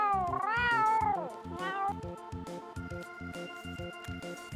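A cat in the 1995 adventure game The Beast Within: A Gabriel Knight Mystery gives a loud, drawn-out, wavering meow followed by a shorter second one, over a steady rhythmic game music loop.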